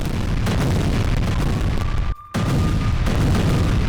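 An MLRS multiple rocket launcher fires a salvo in war news footage, giving a loud, sustained roaring rush that breaks off briefly in the middle before resuming.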